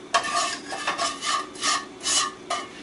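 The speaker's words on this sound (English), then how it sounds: "Now we stir the sugar until it turns into a caramel yellow." A utensil scrapes and rubs in rhythmic strokes through sugar in a pan on medium-high heat, about six close, gritty raspy passes with no voices.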